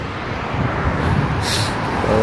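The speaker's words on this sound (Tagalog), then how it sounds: "Maraming sasakyan, no?" Many cars pass on a busy expressway at night, a continuous rushing roadway wash with a brief louder whoosh midway, close by and steady.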